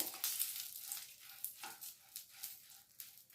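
Green chillies frying in a pan for a drumstick and potato masala curry, a soft, steady sizzle and crackle with small pops and stirring scrapes, close by and fairly quiet, with no talking.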